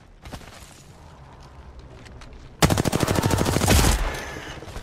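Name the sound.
gunfire in a video game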